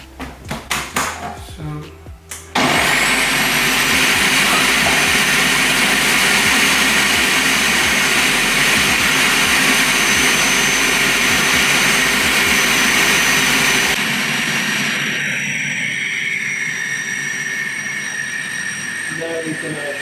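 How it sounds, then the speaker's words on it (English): A blender whirs loudly and steadily while making homemade mayonnaise with vegetable oil, starting abruptly after a few clicks and running continuously before its pitch drops, with a voice speaking over it. "once you turn on the blender, just gotta drop the oil very slowly."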